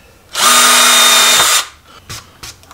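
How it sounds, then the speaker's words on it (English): A power drill bores a hole in a homemade planer board, giving one loud, steady whir of just over a second, then a few small knocks and taps. "Now we'll make our hole for the tail."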